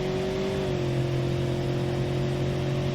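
A car in BeamNG.drive with a high-stall transmission accelerates, its engine holding a steady loud drone with a tone that climbs slightly and then holds level throughout.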